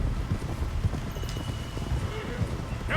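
Horses galloping in Red Dead Redemption 2, their rapid hoof clip-clops thudding in uneven rhythm close by, with a whinny, while someone talks over them.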